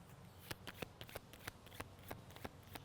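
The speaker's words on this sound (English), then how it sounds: "I'm going to shuffle the deck" A Charming Cryptids Oracle card deck being shuffled, with a quiet run of crisp, papery riffling clicks and slaps spaced irregularly across a few seconds, close and fairly soft, with no talking.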